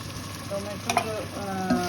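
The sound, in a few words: tomato puree added to frying butter chicken masala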